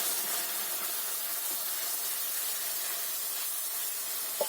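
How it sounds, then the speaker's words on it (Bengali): Water splashed into hot caramelised sugar in a pan, giving a steady, fairly loud hiss and sizzle that runs throughout, with one small sharp pop near the end and no talking. "এর মধ্যে আমি 1 ফোঁটা জল দিয়ে দেবো"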